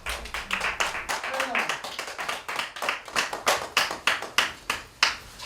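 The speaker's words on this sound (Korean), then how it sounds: "사람들의 박수를 받으며" People clap at the close of a Korean shaman gut ritual: a steady, rhythmic run of about fifteen sharp, close claps, with a faint voice underneath.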